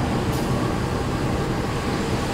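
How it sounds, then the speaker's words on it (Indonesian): Steady rumble and hiss of a stopped Pasundan train alongside the Fajar Utama Solo economy-class train at Kebumen station, an even mechanical drone like idling engines and air conditioning, continuous and moderately loud. "berpapasan dengan kereta api Fajar Utama Solo dari stasiun Pasar Senen tujuan akhir Solo Balapan"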